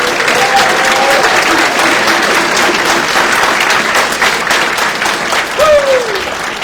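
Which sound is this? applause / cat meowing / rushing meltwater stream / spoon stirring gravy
applause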